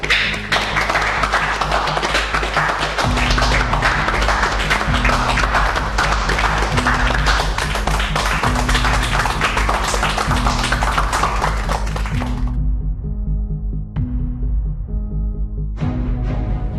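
A group of coworkers applauds to welcome a new employee at a company, dense steady clapping over music for about twelve seconds before it thins out to a few scattered claps.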